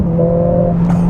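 A Mercedes-AMG CLA45 S floored on a dual carriageway, a loud, close, steady engine drone with a rising tone heard from inside the car.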